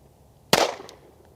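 A single sharp gunshot from a Dan Wesson DWX pistol at a shooting range cracks out with a short, decaying echo, followed by near silence.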